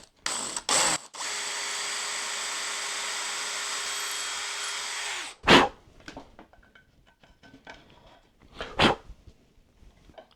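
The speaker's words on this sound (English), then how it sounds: "We're gonna drill right in the center using" A power drill with an 11/64 bit whines steadily for several seconds, boring into wood at close range while installing a closet system knob, followed by short clunks and handling noises.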